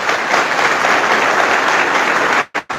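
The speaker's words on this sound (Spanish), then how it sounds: "un fuerte aplauso para ellos" A church congregation breaks into sustained, loud applause at a Catholic gathering, a dense wash of clapping that holds steady before cutting off abruptly with a couple of brief gaps at the end.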